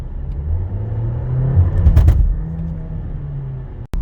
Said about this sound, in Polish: Auto gubiło trakcję nawet przy prędkości 40-50 km na godzinę, co daje się we znaki tak zwanym wheel hopem